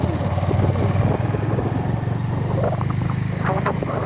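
A motorcycle engine passes close by in the evening darkness, a loud, steady droning rumble with a busy mechanical rattle throughout.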